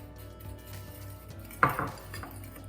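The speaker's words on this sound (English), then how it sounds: "In this bowl here, I have the brown sugar and cinnamon, which I'll mix," Brown sugar and cinnamon being mixed in a bowl for a yogurt apple cake with caramel topping, heard as a few soft utensil scrapes and one sharper clink against the bowl over a low background hum.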